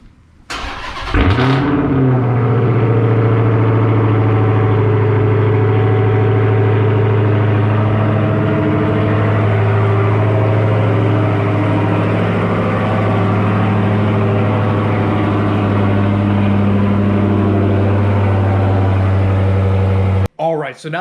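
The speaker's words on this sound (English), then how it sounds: "let's do a cold start, and you guys can see how loud the car is" A Dodge Hellcat fires up from a cold start inside a garage, a sharp crank and bark settling into a loud, deep, steady exhaust idle that rumbles close by for the rest of the stretch before cutting off abruptly.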